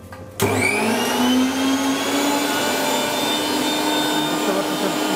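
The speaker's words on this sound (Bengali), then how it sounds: "একটা ব্লেন্ডার আমাদের একটু চালাই দেখান" A Miyako electric blender switches on abruptly and runs with a loud, steady motor whine that rises slightly in pitch, with no other sounds.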